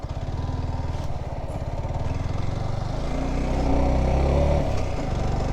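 A vehicle engine labours steadily as it climbs a mountain road from Velli Malai toward the Kolli Hills under a heavy load, making a loud, continuous throbbing drone that swells slightly toward the middle.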